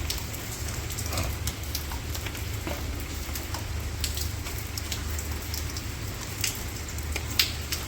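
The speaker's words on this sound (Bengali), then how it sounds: "এই সারাদিন এরকম টেবানি বৃষ্টি কি আর ভালো লাগে" Steady light drizzle falls continuously with a soft, even hiss and scattered drops, with a low hum beneath it.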